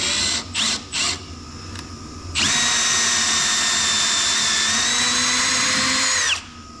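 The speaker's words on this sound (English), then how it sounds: "Got a hole drilled and tapped in there." A power drill boring and tapping a hole in a tire machine, with a few short bursts followed by a loud, steady whine lasting about four seconds before it cuts off, close up with no talking.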